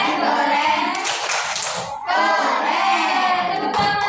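A class of children claps for a group of classmates, brisk rapid hand clapping mixed with children's voices and chatter, fairly loud and close throughout.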